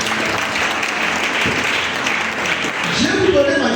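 A church congregation applauding together, a dense steady clatter of many hands, close and loud, with voices mixed in underneath.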